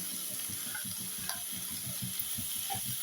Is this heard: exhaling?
no